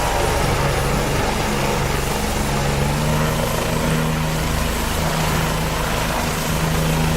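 A Bell 429 helicopter in a flight simulator game, with a steady, continuous drone of turbine engine and rotor in flight that stays constant and moderately loud, with no talk.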